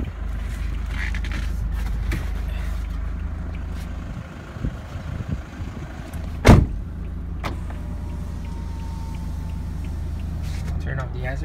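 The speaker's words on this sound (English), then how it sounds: "Go and hop in, check how the engine sounds." A 2017 Toyota Hiace GL Grandia van with a 3.0 engine and manual transmission idles steadily with a low, constant rumble, broken midway by a single sharp knock or door clunk, while voices talk over it.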